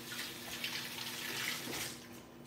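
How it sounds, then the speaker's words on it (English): Tap water runs steadily into a kitchen sink as hands are rinsed mid-recipe while making butter chicken, a close, continuous splashing rush with no voices. "And rinse my hands."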